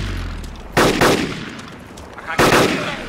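AK rifle fire in a multiplayer zombie shooter video game, coming as two loud, sharp bursts of rapid shots separated by a pause of about a second and a half over a faint background hum.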